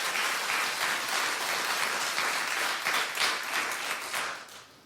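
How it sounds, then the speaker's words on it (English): Studio audience at a daytime talk show applauding, a dense, even wash of clapping that holds steady and then thins out at the end into scattered individual claps. "At the end of the claps, it always sounds like popcorn to me."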